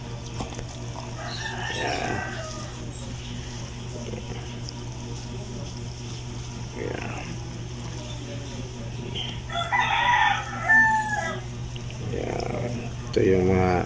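Heritage chickens cluck and crow while being fed moringa leaves and feed, with scattered calls from the flock over a steady background hum and occasional speech.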